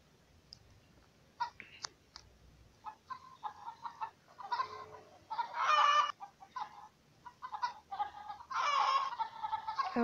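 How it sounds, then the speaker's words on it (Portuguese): Chickens in the video game Egg, Inc. cluck in scattered bursts, some close and loud, others softer, with short clicks and pauses between the calls. "As galinhas."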